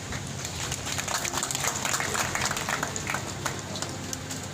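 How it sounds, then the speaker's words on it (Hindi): Crowd at a chief minister's public event in Bhoranj clapping, a thin, steady patter of scattered applause heard at a distance under a broad background hiss. "कुछ लोग ने ताली बजाई, सुन रहा हूं मैं ताली बजाई"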